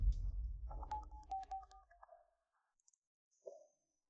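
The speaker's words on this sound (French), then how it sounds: "Appelle vite le professeur Zhao, je veux l'accuser." A telephone number is dialed, with a rapid series of short electronic tones and clicks following a low rumble, then a brief tone near the end; no one speaks.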